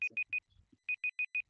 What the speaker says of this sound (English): I have an alarm going off on my headset.